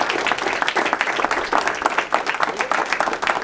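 Audience at a real estate investing business seminar bursts into dense, continuous clapping, loud and close, holding steady for several seconds.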